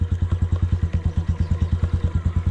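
A 2022 Honda CRF125FB dirt bike chugs along in first gear, its single-cylinder engine pulsing in a steady, even low thump with light mechanical clatter, close and loud with no talk.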